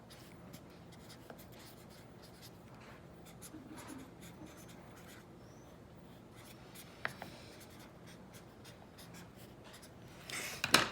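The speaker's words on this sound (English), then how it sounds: "I'll write this one all the way out." Math problem written out by hand, a faint, soft scratch of pen or pencil on paper under quiet room noise, with a few louder taps and strokes near the end.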